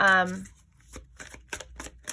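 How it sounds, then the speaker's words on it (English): Tarot cards are shuffled in a series of quick riffling bursts, crisp and close, following a brief moment of speech at the start. "So sorry if the shuffling is loud or anything like that."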